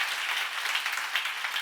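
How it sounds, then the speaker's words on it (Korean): An audience at a church seminar on Romans claps together briefly, a bright, even patter of many hands with no voices over it. "박수."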